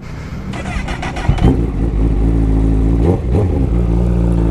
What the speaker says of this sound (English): Let's fire it up and take it for a spin